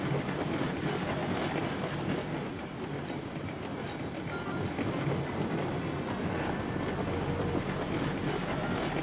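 Train running on track in the Railroads Online video game, a continuous dense rumble with rhythmic clickety-clack of wheels, steady and loud throughout with no voices.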